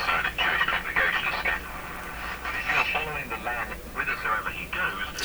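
A Canadian PYE Model 762 valve radio receiver plays a voice broadcast after alignment, the sound clean and undistorted at a moderate level, fluctuating with the speech rhythm.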